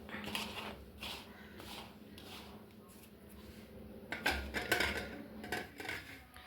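Food is mixed in a bowl with soft scraping, rubbing and occasional light clinks, quiet at first and growing busier and more clattery toward the end.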